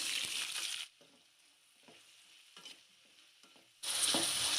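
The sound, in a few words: onions frying in a pan for fried rice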